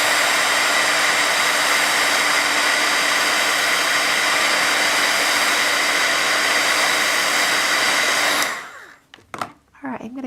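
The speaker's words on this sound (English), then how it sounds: "I'm gonna heat set this till it's dry." A heat tool blows steadily and loudly for about eight seconds to dry stamping ink painted as a stripe on glasses, then cuts off, leaving a few faint handling sounds.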